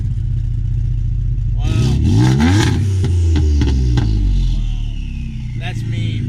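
A Ford Edge Sport with its exhaust cutouts open revs hard after a steady idle, a loud rising roar with turbo whine swelling and falling, close by, with a brief spoken exclamation over it.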